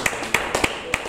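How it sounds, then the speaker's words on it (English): A church congregation claps hands in celebration during a sermon, a handful of sharp, evenly spaced claps heard close and clear. "Clap your hands and celebrate it."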